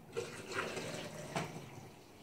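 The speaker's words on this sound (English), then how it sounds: "I'm going to pour the rest of the water in there." Water poured into a stainless steel double-wall French coffee press, a soft splashing and trickling fill with a couple of brief louder gurgles, close and quiet.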